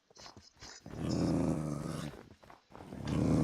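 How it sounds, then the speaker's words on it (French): Dogs in the video game Minecraft growl low and rumbling in sustained bursts, with a few short snarls between, fairly close and without talk. "T'as frappé les chiens."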